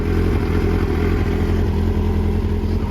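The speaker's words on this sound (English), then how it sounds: "the bike is running" Kawasaki Ninja ZX9R motorcycle engine, freshly restored, idles close by with a steady, loud, even rumble and fast mechanical ticking throughout, no voices.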